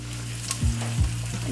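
Garlic sizzles steadily in a hot pan with broadband crackle, broken by a few low thumps of stirring or pan movement; no one speaks.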